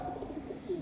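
Soft pigeon cooing, low and murmuring, repeating quietly a few times against faint background noise.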